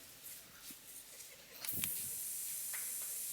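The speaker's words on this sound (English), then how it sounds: "So I'll first spray the fish." Ambi Pur air freshener sprays onto fish in one steady hiss that starts partway through and continues, close and moderately loud after quieter rustling and movement.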